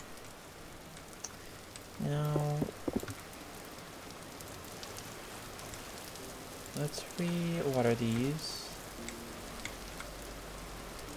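Steady rainfall patters across the ground throughout, a soft continuous hiss beneath occasional spoken commentary in the video game Vintage Story.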